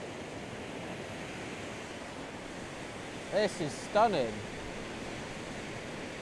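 Fast-flowing river rapids rush as a steady broadband roar, moderately loud and continuous, with someone briefly speaking over the water partway through.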